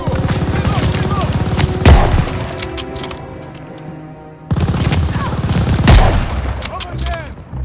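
MG-42 machine gun fire in the World War II shooter game Call of Duty Vanguard, loud sustained bursts with a brief lull midway, mixed with shouted in-game voices.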